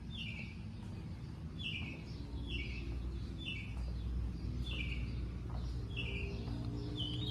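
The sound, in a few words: birds chirping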